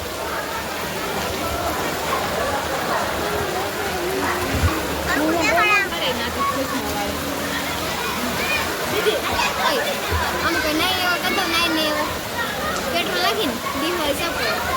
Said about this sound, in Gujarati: રૂમ ભરાઈ ગઈ દીદી બધા જોઈ લો રૂમમાંથી કાઢે પાણી